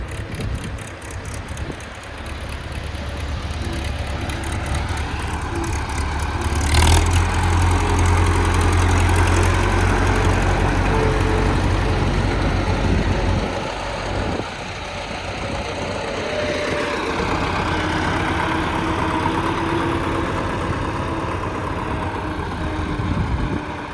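A YuMZ tractor engine, one of two working a garden plot with a stubble cultivator and disc harrow, idles with a low, knocking diesel rumble, then swells louder as it pulls away and keeps running steadily.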